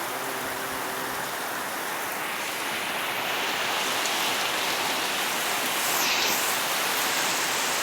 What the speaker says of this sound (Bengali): রাতের বেলায় অনেক বৃষ্টি নামছে।